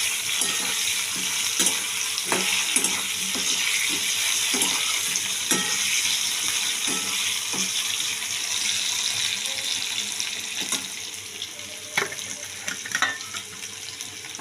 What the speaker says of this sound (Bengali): তেল গরম হয়ে এসছে। এবার দিয়ে দেবো আমি আলু, তেলের মধ্যে দিয়ে দেবো আলু